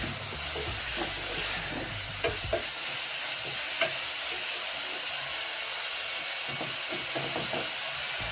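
Beef goes into a pot of softened onions and fries with a steady sizzle and hiss, broken by scattered clinks and scrapes of stirring.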